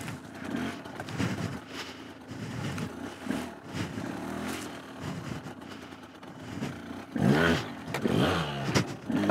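A 200cc enduro motorcycle engine revs and burbles on a rough trail, rising and falling in uneven bursts with scraping and clattering, louder toward the end.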